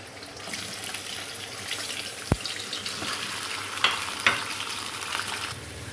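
Chicken hits half a cup of hot oil in a kadai and fries with a steady, close sizzle, broken by one dull thud and a couple of sharp spatter pops.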